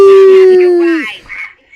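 A voice imitates a siren with a single loud, sustained wailing tone that falls away after a second, followed by faint murmuring.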